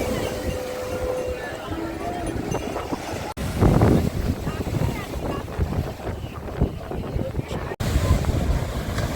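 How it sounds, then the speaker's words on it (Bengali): Rough sea waves pound the shore at Digha at night, a continuous heavy surf roar with surging crashes and strong wind buffeting the microphone, while people talk in the background. "জল এসে পাড়ে এত বাড়ি মারছে"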